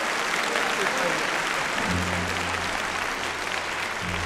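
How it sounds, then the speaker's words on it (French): Audience applause fills a French television studio, broad steady clapping heard alone while a low hum enters partway through. "Et on applaudit, monsieur."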